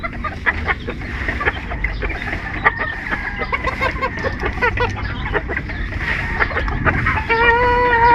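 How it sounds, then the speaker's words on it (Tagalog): Bantam chickens at a home yard, clucking steadily and close by, with a rooster crowing near the end; no talk over them. "Mga manok natin, mga bonsai."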